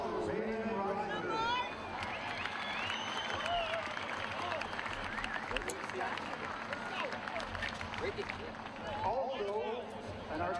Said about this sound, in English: So we'd like to have a big round of applause for Raymond Robinson.